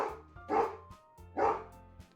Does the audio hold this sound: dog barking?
yes